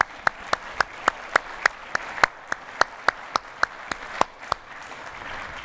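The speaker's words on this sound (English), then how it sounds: "a big round of applause to the whole team" At a corporate CEO opening address, a small audience claps in a slow, steady rhythm of distinct, fairly close claps rather than a dense ovation.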